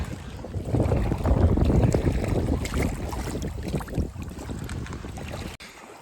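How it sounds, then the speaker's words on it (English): Strong wind buffets the microphone in heavy, rumbling gusts that rise early and then ease, with no voices. "It's so windy."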